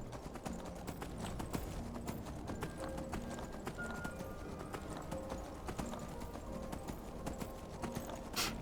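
Steady clip-clop of horse hooves trotting in The Elder Scrolls V: Skyrim, with a faint snort or whinny and soft ambient game sounds underneath.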